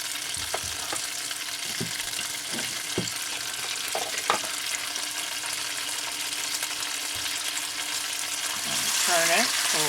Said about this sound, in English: As you can see, it's already starting to sizzle